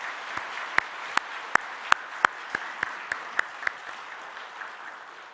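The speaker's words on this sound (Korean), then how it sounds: "우리 박수 한번 합시다." A church congregation claps together in a Sunday worship service, a dense even wash of applause with a few sharp individual claps standing out, fading slightly toward the end.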